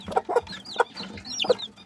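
A hen in a nest box with three newly hatched chicks clucks in short, close bursts, with thin high chick peeps mixed in.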